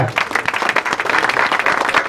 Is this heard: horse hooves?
no